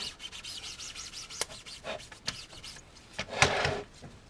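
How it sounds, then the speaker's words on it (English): A squeegee is pressed and dragged across vinyl wrap on a car hood scoop, giving a series of short rubbing, squeaky scrapes with a few sharper strokes near the end, close and fairly quiet. "Alright, let's start to squeegee this thing."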